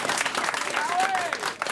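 Studio audience applauding during a televised intellectual quiz game, a steady wash of dense clapping with a faint whistle-like tone, carried under a voice.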